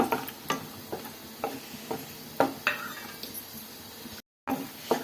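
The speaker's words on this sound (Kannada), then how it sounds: "ಗೋಡಂಬಿನ ಈ ಥರ ಫ್ರೈ ಮಾಡ್ಕೊಳ್ಳೋಣ" Cashews frying in heated oil and ghee, with a steady faint sizzle broken by repeated spoon clicks and scrapes against the pan, plus one brief silent gap near the end.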